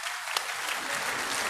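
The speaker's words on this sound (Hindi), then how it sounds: "एक बार जोरदार ताली से इनका धन्यवाद करिए" Hearty applause from a crowd at a rural mahapanchayat gathering, a steady wash of clapping filling the whole moment at moderate distance.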